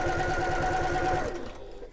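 Sewing machine running a seam on a backpack, a brief burst of fast, even needle thumps over a motor whir that slows and stops after about a second and a half.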